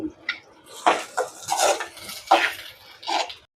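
Garlic, ginger, green chili, curry leaves and onion being sautéed in a pan for a Jaffna string hopper kottu, heard as a series of distinct scraping and clattering stirs against the pan, close and moderately loud, with no talking.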